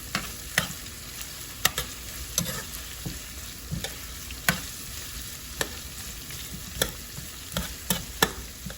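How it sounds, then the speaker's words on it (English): Onion slices and wiri peppers frying in hot oil for a Guyanese curry, a continuous crackling sizzle broken by sharp pops and spits at irregular intervals, close and alone. "I'll allow this to fry until the edges of the onion start to turn brown"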